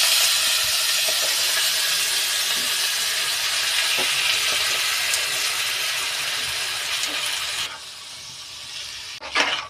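Washed rice and lentils for khichuri tipped into a hot pan with green chillies, giving a loud, steady, close sizzling hiss that runs for several seconds, then drops away abruptly, with a short clatter near the end.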